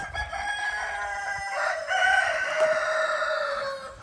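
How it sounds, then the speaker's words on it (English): A rooster crows among chickens in a petting-zoo pen, a drawn-out crow with a clear harmonic ring, close and moderately loud over a quiet yard. "These are chickens, but I hear the rooster"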